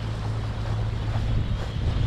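Sailboat motoring under engine power across open water toward Komodo, with a steady low engine drone and continuous wind and water rush throughout, no voices.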